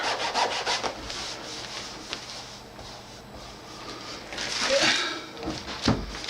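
A motorcycle seat is scuffed by hand, giving several rough, uneven rubbing strokes up close, louder at the start and again near the end.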